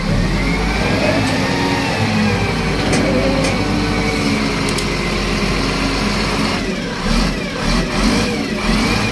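A car windshield wiper motor runs during a diagnostic test, producing a steady, close motor whir and hum that continues throughout with slight fluctuations and no speech.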